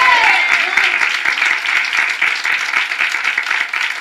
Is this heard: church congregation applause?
yes